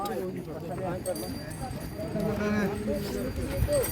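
Horse hooves clopping on a rocky mountain track, a few uneven, faint steps under continuous chatter from people guiding the animal along a narrow path.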